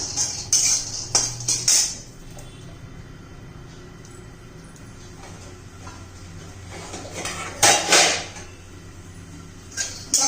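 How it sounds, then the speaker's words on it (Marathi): A handful of peanuts dry roasting in a pan, heard as scattered clinks and scrapes of a utensil against metal, with louder bursts of stirring near the start and again toward the end, over a quiet background. "एक मुठभर शेंगदाणे पहिले भाजून घ्यायचे"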